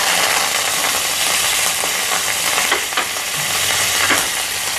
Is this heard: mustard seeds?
yes